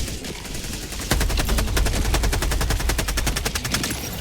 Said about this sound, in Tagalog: Requesting orbital. Firing orbital laser.